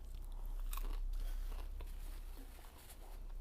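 Crunchy pizza rolls bitten and chewed close to the mic, with sharp crunches and grinding mastication spread through a steady noisy background; no talking.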